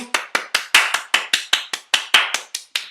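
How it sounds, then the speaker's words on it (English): A steady run of about fourteen sharp, evenly spaced hand claps, close and fairly loud, with no talk over them, like one or two people applauding. "round of applause to you"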